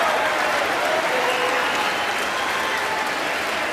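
A crowd at the State of the Union Address applauds and cheers in a dense, loud, continuous wash of clapping that fills the room for the whole stretch, with no single voice standing out.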